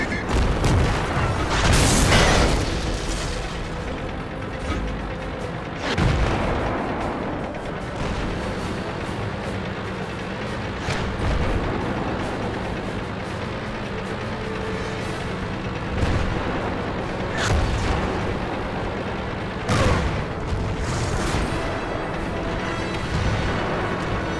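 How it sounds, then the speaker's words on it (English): Tank cannon shots boom repeatedly from a German Pz38 NA light tank in World of Tanks, firing at the side of a Hetzer. About half a dozen heavy blasts land a few seconds apart over constant engine rumble. "I can take some shots on the Hetzer's side."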